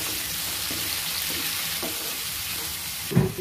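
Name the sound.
stir-frying mushrooms in a pan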